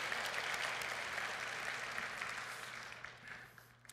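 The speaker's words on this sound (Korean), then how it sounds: "우리 찬양 때 박수 한번 해줄까요?" Congregation clapping during a Sunday church service, a moderately quiet wash of applause with a steady low hum underneath that thins out and fades toward the end.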